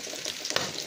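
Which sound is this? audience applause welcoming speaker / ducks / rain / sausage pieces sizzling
sausage pieces sizzling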